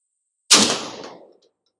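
A Benelli M4 semi-automatic shotgun fires a single slug at an outdoor range: one loud, sharp close blast that rings out and decays over nearly a second before silence.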